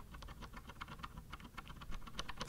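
Quick, rapid typing on a Kinesis Advantage ergonomic keyboard, its keys giving a scratchy, metallic clatter, close and fairly quiet, heard alone.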